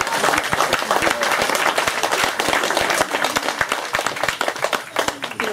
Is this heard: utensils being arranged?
no